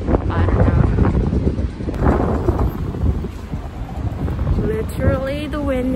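Strong wind buffets a microphone on a Melbourne city street, a loud, rough rumble that gusts unevenly throughout, with a voice briefly audible through it near the end.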